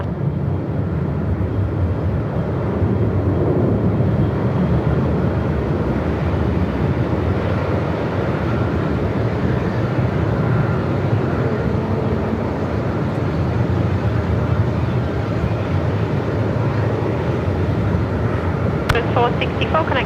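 An aircraft departs Melbourne Airport in strong wind: a loud, steady roar of engines blended with heavy wind buffeting the microphone, sustained for the whole stretch, with speech running over it.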